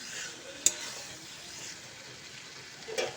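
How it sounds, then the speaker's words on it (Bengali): Chopped ridge gourd stirred and frying in spiced oil in a pan: a steady soft sizzle, with a sharp utensil knock near the start and another scrape near the end. "ঝিঙেগুলোকে দিয়ে আমি ভালো করে মিশিয়ে নিয়েছি"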